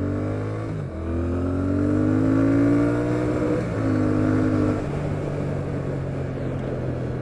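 A Triumph Thruxton R motorcycle engine pulls up through the gears on a dual carriageway, its pitch climbing steadily under continuous road and wind noise, then easing off and rising again.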